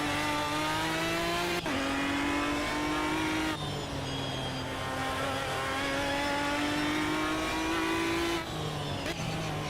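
A GT500 race car in Automobilista 2 screams at high revs, its engine note climbing steadily and then dropping sharply at several gear shifts, loud and continuous with no talking.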